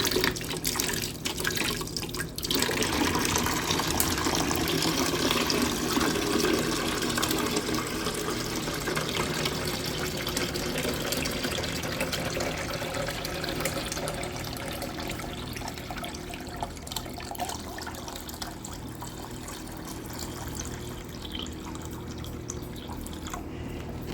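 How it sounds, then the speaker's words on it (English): Purified water pours into a container in a steady, continuous splashing stream that stays close and fairly loud throughout, fading slightly toward the end, with no talking. "And I add my purified water."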